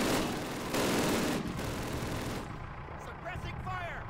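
Suppressing gunfire in Call of Duty's village-at-dawn mission: loud, dense rifle and machine-gun bursts crackle for the first half, then fade into a quieter battlefield backdrop with distant shots and faint voices.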